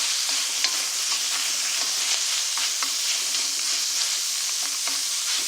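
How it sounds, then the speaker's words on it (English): Meat sizzles loudly in a hot oiled wok, a steady bright frying hiss with scattered scraping and stirring clicks, close and continuous with no talking. "And we're going to stir fry."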